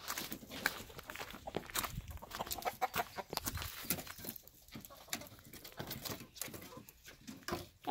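About a dozen chickens and a rooster cluck and scratch around nearby, with soft footsteps and occasional rustling, fairly quiet and irregular.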